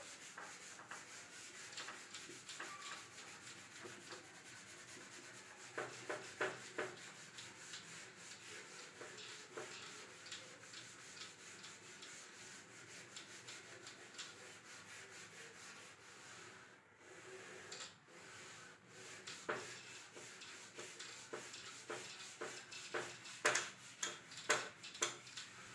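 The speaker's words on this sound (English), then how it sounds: "Now we rub this." Something rubbed back and forth on paper, a faint, scratchy run of short strokes in quiet surroundings, with a few louder scrapes near the end.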